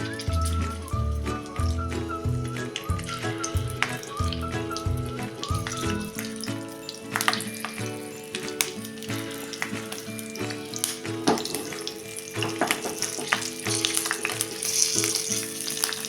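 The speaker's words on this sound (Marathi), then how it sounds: "अशा करून ह्या आपण सगळ्या मिरच्या शॅलो फ्राय करून काढायच्या आहेत" Stuffed green chillies shallow frying in hot oil, a steady close sizzle running throughout with scattered pops and crackles and some clinking underneath.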